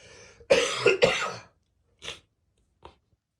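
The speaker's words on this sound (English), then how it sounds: "Excuse me, I got a cough." Two harsh coughs in quick succession close to the listener, followed by a couple of softer, shorter coughs or throat clears.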